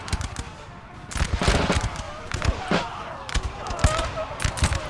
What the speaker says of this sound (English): The Grenadiers getting gunned down.